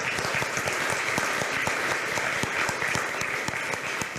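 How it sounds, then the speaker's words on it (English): A conference audience at a European women in games event claps steadily for the board, a dense, even burst of applause that lasts several seconds. "So a round of applause for our board"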